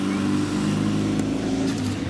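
An old retro car's engine hums and revs steadily close by on a rural Belgian road, a low motor drone with a brief rise in pitch, continuous throughout.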